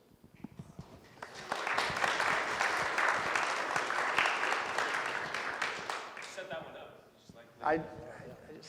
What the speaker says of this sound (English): I like it when people clap.